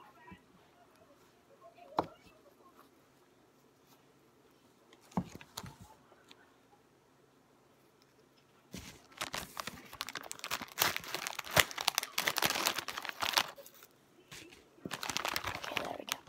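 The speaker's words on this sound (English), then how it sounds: "Let me use the grown-up scissors." Scissors cutting open packaging, a few sharp isolated snips followed by bursts of rustling and crinkling plastic that grow louder and denser toward the end, close by.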